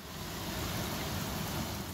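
Torrential rain pours down steadily at night, a dense, even hiss of downpour close by with no voices.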